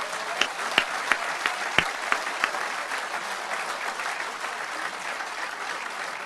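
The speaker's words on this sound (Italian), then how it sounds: "Facciamo un applauso a tutti." Audience at a public political meeting in Castelfranco bursts into applause, a dense steady clatter of many hands with a few sharp claps standing out early, fairly close and lasting throughout.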